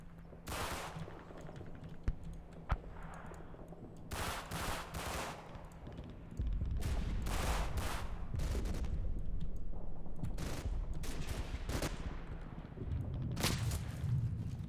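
Bursts of MG42 machine-gun fire in the Combat Mission: Battle for Normandy war game, scattered automatic volleys over a steady rumbling battlefield background, with loud vertical bursts clustered around the middle and end.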